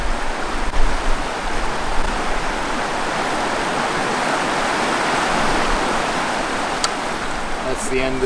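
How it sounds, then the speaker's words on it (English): River rapids on a multi-day camping trip rush in a loud, continuous wash of broadband water noise, steady throughout, with a few faint knocks and a brief voice near the end. "that's the end of all the rapids for the day"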